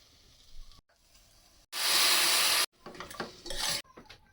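Tempering frying in a pan with crushed jaggery and tamarind: a loud burst of sizzling for about a second, with pan and utensil clatter and stirring before and after.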